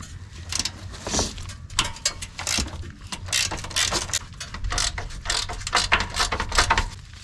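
A hand ratchet works loose the 21 mm upper control arm bolts on a Chevrolet Tahoe Z55 with Autoride suspension, giving repeated clicking pawl bursts with mechanical knocks, close and fairly loud, with no talk.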